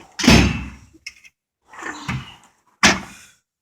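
Metal toolbox drawers are pulled open and shut in a workshop, three loud scraping slides with clunks, separated by short pauses, close by and with no talk over them.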